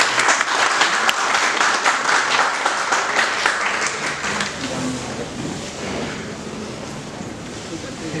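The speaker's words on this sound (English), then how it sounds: "Give them a big round of applause." An audience applauds at a BBA orientation event, with loud dense clapping at first that gradually thins and fades while some voices carry underneath.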